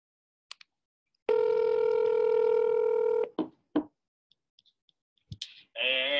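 A telephone number is dialed during a sales call. A few clicks come first, then a steady dial tone holds for about two seconds, followed by short bursts of keypad tones and beeps between brief silences.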